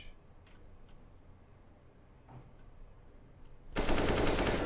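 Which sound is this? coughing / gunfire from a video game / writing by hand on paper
gunfire from a video game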